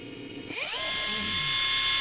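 An AOBEN 21V cordless impact wrench clicks on and spins up, its high whine rising in pitch within half a second and then holding a steady, close, continuous buzz with no talking.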